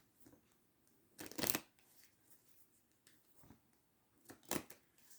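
Two short, crisp bursts of a deck of cards being shuffled, the riffles standing out against a quiet room.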